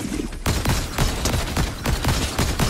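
Rapid bursts of video game gunfire, dense overlapping shots repeating in quick rhythmic volleys, loud and close throughout.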